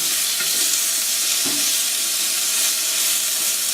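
Scallops searing in a hot frying pan, a loud, continuous, even sizzle heard close up, with one faint knock partway through and no talking.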